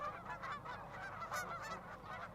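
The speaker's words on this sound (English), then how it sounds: "They were honking up a pretty good racket in this feedlot between Hillspring and Glenwood." Hundreds of geese in a cattle feedlot between Hillspring and Glenwood honk continuously in a dense, overlapping racket, steady and moderately distant throughout.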